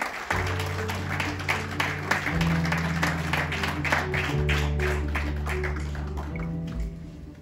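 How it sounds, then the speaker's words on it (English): A conference audience breaks into sustained, dense applause at a business networking event, steady and loud for several seconds while a low musical tone plays underneath. "With a thunderous round of applause, ladies and gentlemen, let's welcome the man of the moment"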